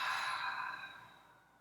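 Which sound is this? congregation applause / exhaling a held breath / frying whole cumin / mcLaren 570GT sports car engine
exhaling a held breath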